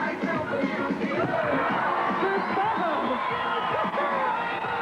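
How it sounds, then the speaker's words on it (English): Crowd at a 1984 BMX freestyle show cheers and whoops continuously, a loud, busy wash of voices with shouts rising above the roar. "The crowd are really loving it."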